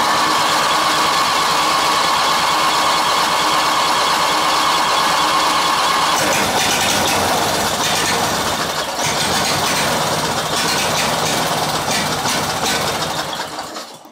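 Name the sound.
Craftsman LTX1000 riding mower engine running with the choke set wrong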